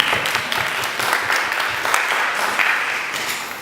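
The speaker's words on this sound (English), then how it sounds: "Everyone give a big round of applause to Vinaka." An audience at a group presentation gives a round of applause, a moderate, steady patter of many hands clapping together that tapers slightly toward the end.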